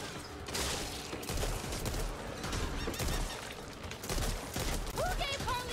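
Rapid bursts of gunfire from the zombie shooter Back 4 Blood crackle through a busy game mix, with repeated volleys and other effects piling up and faint character voices underneath.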